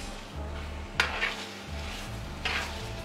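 Dhaba-style chicken curry stirred in a frying pan, soft scraping strokes of a spoon against the pan over a faint sizzle, with a couple of sharper clinks, quiet and close with no talk.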